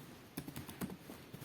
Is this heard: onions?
no